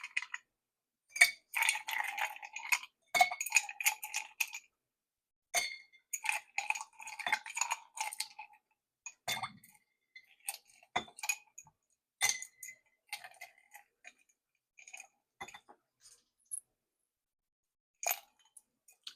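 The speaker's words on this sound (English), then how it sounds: "I'm gonna put our ice in here." Ice cubes clink and rattle into a glass for a vodka cocktail with white cranberry and lemon juice, a burst of busy crisp clattering followed by scattered sharp clinks and taps, close and without talk.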